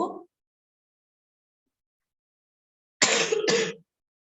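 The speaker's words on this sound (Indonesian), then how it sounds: "agak tidak enak badan, jadi agak batuk-batuk sedikit" A woman coughs twice in a quick pair of short, close bursts, following a brief faint sound and a few seconds of silence, with no talking.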